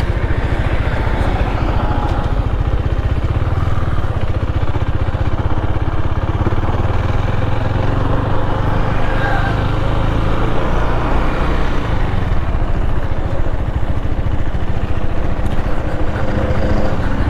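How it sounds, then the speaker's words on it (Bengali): A motorbike engine running nearby, a loud continuous low rumble that holds steady throughout with no clear revving. "ইঞ্জিনের সাউন্ডটা একটু শুনতে লাগতেছে"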